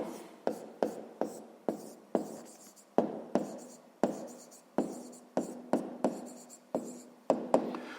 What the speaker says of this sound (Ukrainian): Я спочатку напишу, потім прочитаю.